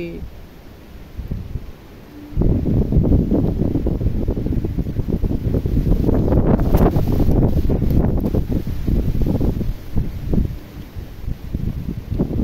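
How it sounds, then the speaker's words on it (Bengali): Storm wind gusting through a rain-soaked banana garden in a village, a loud roaring, buffeting rush with rustling leaves that swells after a quieter start and keeps churning to the end. "ভীষণ ঝড় হচ্ছে কলা বাগানে"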